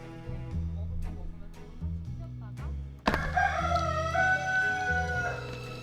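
A chicken crows and clucks over music at a moderate distance, starting about halfway through and lasting to the end, with sustained calls rising above the steady background.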